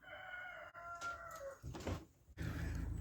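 Chickens in a home garden flock vocalise close by, with a drawn-out crowing call followed by shorter clucks and scratchy rustling, no voices over them.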